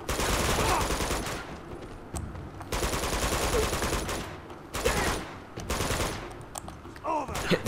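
Automatic M4 rifle fire in the video game Uncharted 2, loud sustained bursts of rapid shots broken by short pauses, repeating across the stretch with no talking over it.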